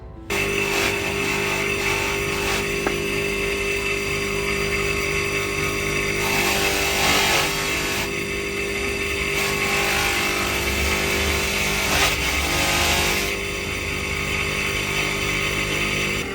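A polishing machine whirs steadily while an opal gemstone is polished, a continuous motor hum with harmonic whine and grinding surges as the stone is pressed against it, no voices.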